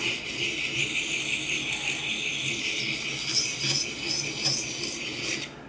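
A Huntshield knife blade rubbed in circles on a sharpening stone, a continuous close gritty rasping scrape with slight rhythmic swells as it moves.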